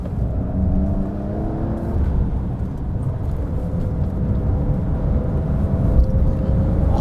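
A new Porsche 911 powers out of a corner on a race circuit, its engine a loud, steady, dense drone with a faint whine running through it and no voices.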